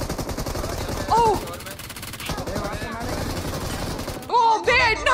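Dense bursts of gunfire from a shooter game rattle loudly throughout, overlapped by excited voices shouting over the shots.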